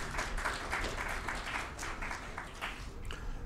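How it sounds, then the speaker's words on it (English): Audience applause at a 3D printing industry conference and awards show, a steady wash of many hands clapping that stays even and fairly loud for the whole stretch, with no voices on top. "A round of applause."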